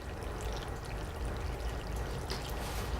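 Water is poured into a saucepan holding rice and other ingredients, a steady close splashing stream that runs without a break.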